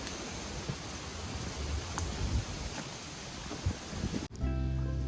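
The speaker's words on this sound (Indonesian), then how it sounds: "Ini angin di sini tapi kenceng banget" Strong wind on a mountain trail on Mount Klotok in Kediri, a loud broadband roar gusting against the microphone before cutting abruptly into a quieter low hum near the end.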